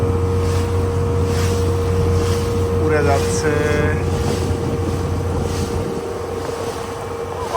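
A speedboat runs on the sea off Maafushi in the Maldives, its engine a loud steady drone with wind buffeting the microphone, while a voice speaks briefly partway through.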